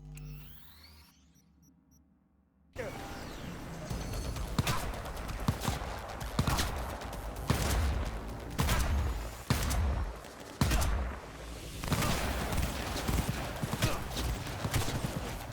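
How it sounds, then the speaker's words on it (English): Gunfire in Cyberpunk 2077 during a warehouse firefight: repeated sharp shots and bursts crack out over about thirteen seconds after a quiet opening, with layered combat noise between volleys. "I'm taking fire!"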